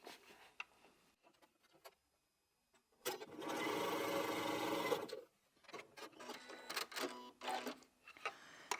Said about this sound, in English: I'm going to sew those two together using a 1/4 inch seam